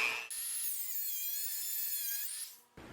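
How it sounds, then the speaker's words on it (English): A Dremel rotary tool grinds off the protruding ends of screws on a cigar-box guitar pedal build, giving a high, steady whine for about two and a half seconds between short bursts of handling noise. "So you got to grab a Dremel tool and Dremel off the end of it"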